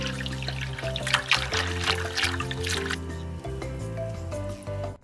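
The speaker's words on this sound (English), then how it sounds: "So I'm going to use my siphon and we'll get some water into our big bucket to transport" Water is siphoned into a big bucket for transporting salmon, a close, continuous trickling and splashing pour under a faint background hum, with no talking.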